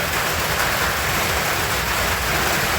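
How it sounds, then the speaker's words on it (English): Rain falling on a roof on a Saturday night, a dense, even hiss of drops that stays constant and fairly loud from start to finish, with no talking. "I don't know if you can hear that rain on the roof there"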